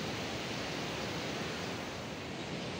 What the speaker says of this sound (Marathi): समुद्राच्या लाटा